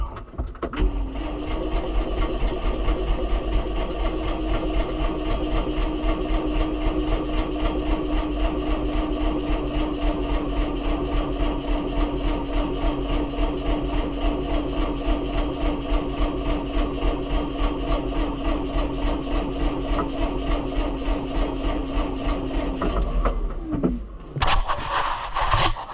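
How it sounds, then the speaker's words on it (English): A New Holland TN75 tractor engine with a fuel problem cranks steadily and loudly for over twenty seconds without catching, the starter's rhythmic churning continuous until it stops near the end. "it's got that fuel problem, so it takes some cranking after it's been sitting"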